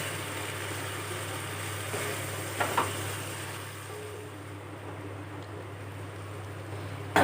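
Duck meat curry with potatoes fries in a pan, a soft continuous sizzle over a low steady hum, with a couple of brief scrapes as it is stirred.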